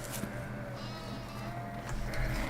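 Sheep bleating on a virtual farm in Farming Simulator 15, several wavering bleats over a steady low rumble, moderately close and fairly quiet, with no talk.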